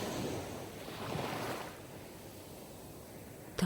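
Surf rolls onto a seashore as a broad hiss that swells and then recedes into a quieter wash, with a brief knock right at the end and no voices.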